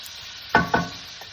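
Bacon frying in a pan makes a faint, even sizzle close by, broken by two sharp scraping clatters in quick succession near the middle.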